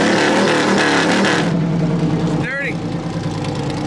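An LS-swapped truck engine roars loud and close at an LS Fest West event, dropping from heavy revving into a rough, lumpy idle, while people talk nearby.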